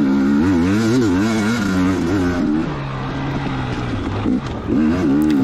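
Two-stroke 2019 KTM 250XC dirt bike climbing a trail at Prospect OHV, engine loud and close with a wavering, revving drone that dips briefly near the end before picking back up.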